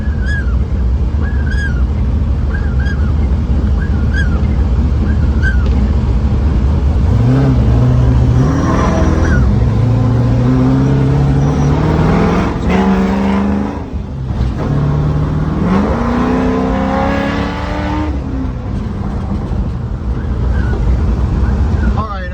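A 1996 Mustang with a swapped engine drives down a road, its engine rising and falling through gear changes with revs climbing, loud and close from inside the car, with heavy wind rumble throughout.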